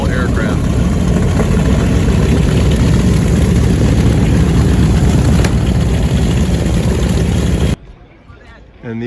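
Loud, steady roar of the radial piston engines on a Boeing B-17G bomber at the Coeur d'Alene Air Expo at Pappy Boyington Field. The drone is continuous and close, then cuts off abruptly near the end.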